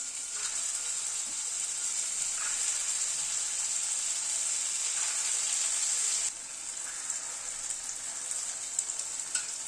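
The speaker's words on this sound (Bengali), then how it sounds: "ছানার বলগুলোকে উল্টে পাল্টে একটু লাল করে ভেজে নেব" Chhana (cottage cheese) balls fry in hot white oil in a kadai on a gas stove, giving a steady, close sizzle that runs the whole time. The sizzle is loudest at first, then drops slightly, with faint stirring clicks.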